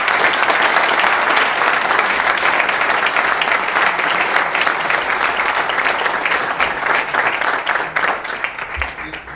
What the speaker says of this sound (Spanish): merecen todos ustedes un fuerte y sentido aplauso